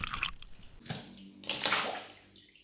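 Water gushes out of a small hole in a water-filled balloon in bursts of splashing and sloshing, loud and close, with no talking.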